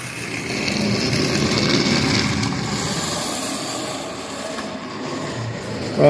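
An HO scale model train runs along its track, a steady rolling rumble with a whirring motor that stays fairly loud throughout and swells sharply at the very end, no voices present.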